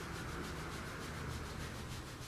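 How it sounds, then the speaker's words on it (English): Vigorous hand rubbing over the skin of the lower back at the kidney area gives a steady, close, continuous brushing friction with no pauses and no talking. "you want to rub, not too hard, but definitely vigorously, and you want to get in there on the area"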